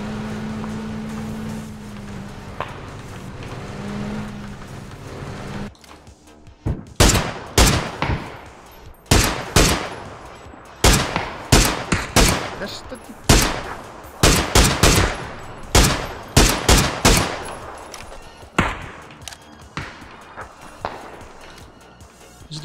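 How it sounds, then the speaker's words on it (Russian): Gunfire in the PUBG battle royale game, fired from a house: after a quiet stretch with low background rumble, sharp loud shots ring out in irregular bursts and single cracks for the rest of the stretch, alone without talk. "Из дома стреляет, слева от дома."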